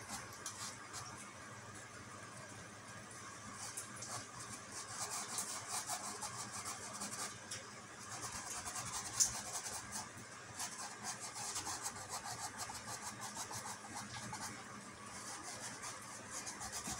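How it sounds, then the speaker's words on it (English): A paintbrush is scrubbed hard and fast across a sculpted, eroded skull, giving a soft, continuous dry rubbing texture that stays faint and steady throughout, with no voices. "I literally scrub with this thing like I'm angry at it."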